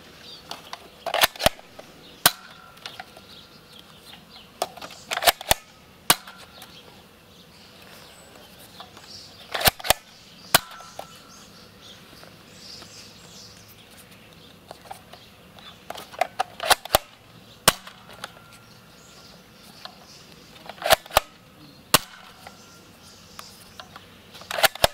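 A Nerf Longshot Elite blaster fires darts, making sharp, scattered clicks and snaps at irregular intervals over a faint, quiet background.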